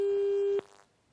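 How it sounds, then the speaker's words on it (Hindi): A steady telephone busy tone sounds after a call drops. It holds one pitch for about half a second, then cuts off into near silence. "आशीष जी का शायद फोन कट गया है"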